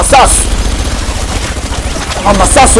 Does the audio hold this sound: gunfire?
yes